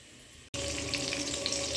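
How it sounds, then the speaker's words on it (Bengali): An egg sizzles and spits in hot oil in a frying pan, starting abruptly after a brief quiet moment and then holding as a close, bright, crackling hiss. "এরপরে আমি এই যে ডিমটা ভাজা করছি"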